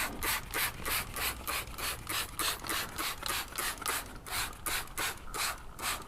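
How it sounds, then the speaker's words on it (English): A spray bottle of Platinum Potions Wheel Cleanse squirting onto a wet car wheel over and over in a quick, even rhythm, around twenty hissing bursts in a row, close by with no voices. "now we spray it onto the wet wheel"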